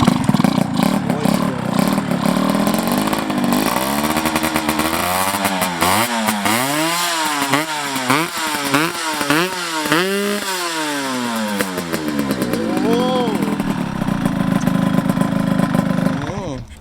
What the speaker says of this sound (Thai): ก็ขอฟังเสียงเครื่องหน่อยก็แล้วกัน